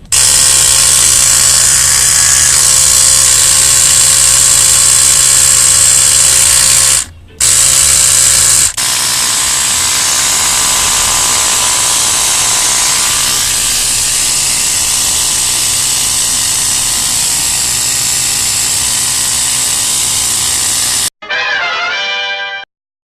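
A Dynaplug Micro Pro tyre inflator runs loud and close with a steady high-pitched electric whine and buzz, cutting out briefly around seven seconds before resuming and then stopping near the end.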